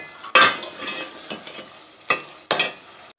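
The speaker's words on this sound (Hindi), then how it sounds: "साथ साथ जो है वो मैं भुनाई भी कर रही हूँ सालन की, और मैं इसको ऐसे मैश करती रहूँगी" A curry base of tomato and garlic fries in a pan while being stirred and mashed, with a steady sizzle broken by several sharp scraping strokes of a spoon, close and clear.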